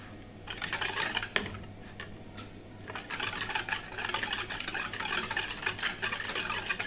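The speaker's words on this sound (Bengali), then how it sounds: "মিশ্রণটা দিয়ে আমি 4-5 মিনিটের মতো ভালো করে বিট করে নিব" A burhani yogurt mixture is beaten, giving a rapid, uneven clatter of a whisk or spoon against the bowl that swells and eases at close range, with no talk.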